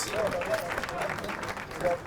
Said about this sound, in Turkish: Alkış, tebrik ediyoruz.